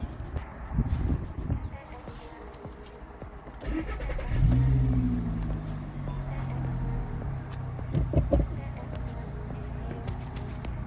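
A Volkswagen Golf SportWagen TDI diesel with a 5-speed manual cranks briefly, catches and settles into a steady, moderately loud idle rumble, with a person talking near the car.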